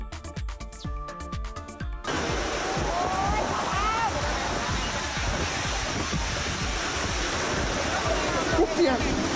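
Heavy rainstorm lashing down during a graduation rehearsal, a loud, dense, steady roar of rain and wind that takes over after a few seconds of muffled, clattering handling noise, with no clear talk.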